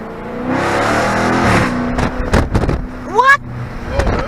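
Loud Dodge Charger Daytona 392 V8 engine revving on the street, a roaring, growling surge that rises and falls in bursts up close, with excited voices talking over it.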